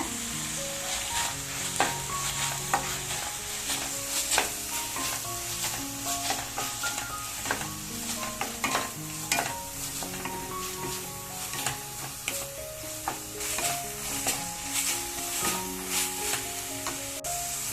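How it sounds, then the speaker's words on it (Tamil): Chicken sizzles steadily in a hot pan with tomato while it is stirred for biryani, with scraping and clinking, under soft background music. "பாருங்க, சிக்கன் நல்லா வதங்கிருச்சு."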